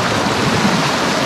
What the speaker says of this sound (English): So this is a tiny waterfall.